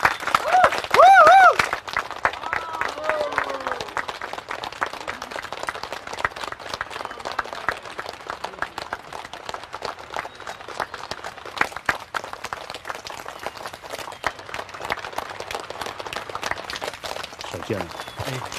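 Wedding guests applaud the arriving bride: a brief burst of cheering voices at the start, then steady, dense clapping that carries on at an even level for the rest of the stretch.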